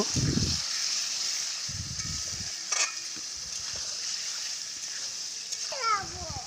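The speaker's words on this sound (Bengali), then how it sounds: "আলু দিয়ে মশলার সাথে খুব ভালোভাবে মিশিয়ে নেব" Boiled potatoes tossed with spices in a frying pan for a Morola fish curry, a steady sizzle with repeated low scraping bursts from stirring.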